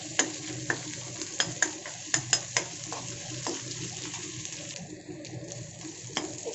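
Chopped onion, ginger, garlic and chilli stir-fry in a pan for an okra curry, giving a steady close sizzle broken by sharp spatula taps and scrapes against the metal in an irregular rhythm.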